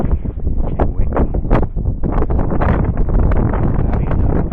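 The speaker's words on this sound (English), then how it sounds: "today's cloudy and windy" Strong wind gusts batter the microphone outdoors on a cloudy day, a loud, rough, buffeting roar that rises and falls throughout, up close with no clear speech.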